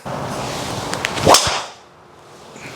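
A Titleist GT2 golf driver swings through with a rising whoosh and strikes the ball once with a sharp, solid crack, heard close and alone with no talking.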